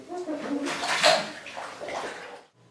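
Bathwater sloshes and splashes in a bubble-filled tub, a steady close wash of watery noise for a couple of seconds that fades out at the end.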